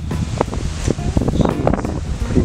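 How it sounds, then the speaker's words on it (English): Wind blowing outdoors, gusting and buffeting against the microphone with rustling bursts in an uneven, fluttering rhythm, loud and close throughout. "Jeez, pretty windy out here though."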